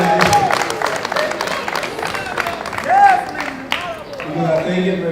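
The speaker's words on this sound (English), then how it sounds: "So let's give her a round of applause for that great" Festival audience at an Ivorian cultural event applauds and cheers, a broad wash of clapping with crowd voices and whoops mixed in, fairly loud and steady throughout.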